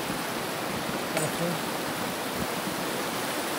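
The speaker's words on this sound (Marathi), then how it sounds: "पाण्याला खूप ओढ आहे." Strongly flowing water of the Narmada river, a steady rushing wash heard close, with a brief spoken word in the middle.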